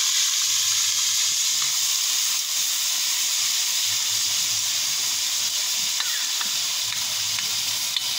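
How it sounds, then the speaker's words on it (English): Food sizzles and fries steadily in a pan while saltfish is being cooked for a roast breadfruit meal, a constant close hiss with faint stirring clinks. "get this to fry up"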